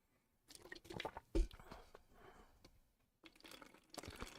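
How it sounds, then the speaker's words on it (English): V8 juice being poured into water in a water bottle: close, soft splashing and gurgling trickles in uneven bursts with brief pauses, fairly quiet overall. "Mixing that with a little agua. So if you hear some pouring in the background,"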